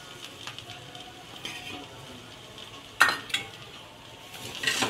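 Curry leaves go last into a pan of beans paruppu usili and fry with a soft, steady sizzle, while a spoon stirs and scrapes the pan, with sharper clattering bursts near the middle and again at the end.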